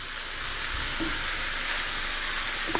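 Vegetables stir-fry in a hot pan for a pineapple and mock pork dish, giving a steady, close, even sizzle with soft stirring bumps and no talking.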